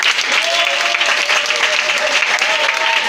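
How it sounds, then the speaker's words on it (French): A congregation at a Pentecost church service applauds in a dense, steady wave of clapping, with a faint tone or voice running underneath. "Est-ce que tu peux acclamer Jésus?"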